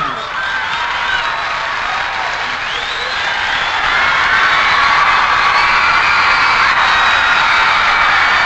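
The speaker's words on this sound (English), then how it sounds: "Clap in your hands, you've got to clap." A stadium crowd at a Peter Frampton concert at Oakland Coliseum claps and cheers steadily, broadband applause filling the space with a few whoops mixed in, growing slightly louder toward the end.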